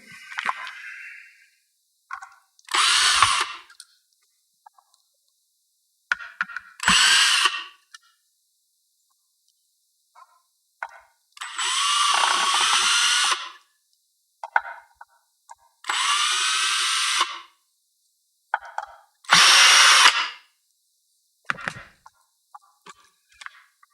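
A power drill backs screws out of a piece of audio gear, running in about seven separate whirring bursts of one to two seconds each, close and fairly loud, separated by stretches of near silence.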